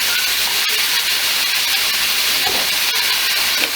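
Vinegar hits a hot frying pan holding Jamaican escovitch fish, producing a loud, continuous hiss and sizzle close by, with a few faint clicks and no speech.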